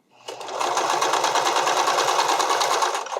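Sewing machine stitching elastic onto a strappy underwire bikini top, starting up and running in a fast, steady, close rattling burst of needle strokes for about three seconds.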